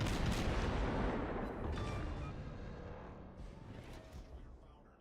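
Ship guns fire in a naval battle video game, a dense run of heavy booms and rumbling blasts that slowly fades, with faint voices underneath.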